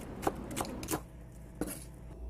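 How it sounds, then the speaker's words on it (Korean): A kitchen knife slices through an onion, cutting toward the root end, giving four crisp chops spaced unevenly across a couple of seconds, close and clear with no talking. "요거를 제일 나중에 요렇게 떡하니 썰면은 눈이 덜 따가봐요"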